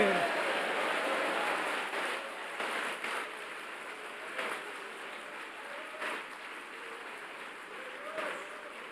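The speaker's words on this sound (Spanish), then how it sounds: "Esta iglesia aplaude al Dios que conoce." A church congregation applauds in a continuous, dense wash of many clapping hands, swelling in a few spots, with a voice faintly underneath.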